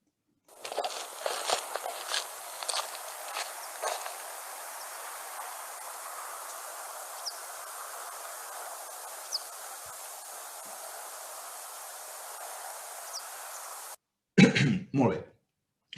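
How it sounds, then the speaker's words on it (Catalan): A recordist's footsteps in an outdoor field recording at Torre d'en Dolça, Vila-seca: a few seconds of irregular close steps, then steady quiet ambience with faint distant bird calls and a short loud burst near the end. "Se senten passes, òbviament perquè jo estic caminant."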